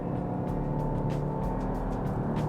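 A 2024 Honda Civic Touring's 1.5-litre turbocharged engine with CVT accelerating at about half throttle, a steady, continuous hum and road drone from inside the cabin with no talking.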